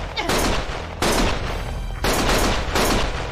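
Rapid bursts of gunfire in the game Lost Judgment, three loud, close volleys of overlapping shots separated by brief gaps, dense and sharp with no clear speech over them.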